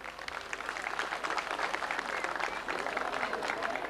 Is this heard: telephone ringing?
no